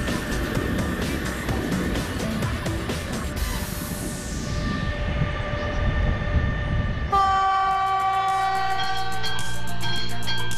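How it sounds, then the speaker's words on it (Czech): A railway locomotive pulls away with loud, continuous rail noise and dense rumble. A long sustained horn with stacked tones sounds in the second half. "máme lokomotivu připravenou k jízdě a můžeme vyrazit na vlak"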